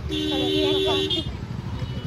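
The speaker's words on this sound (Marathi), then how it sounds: "खूप ट्रॅफिक आहे." A steady, sustained car horn blares for about a second over a low hum of congested road traffic on the way to Sinhagad Fort, then gives way to the rumble of passing vehicles.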